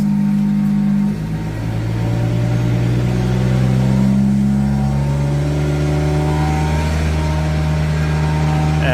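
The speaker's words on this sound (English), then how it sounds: "hear the vacuum on, turn up the revs" A vacuum tanker truck's engine, running a septic-emptying pump, revs up steadily and holds a loud, close, rising drone with a tonal whine climbing over several seconds, no voices.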